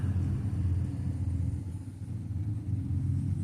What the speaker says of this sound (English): Got a car coming in, a truck coming in.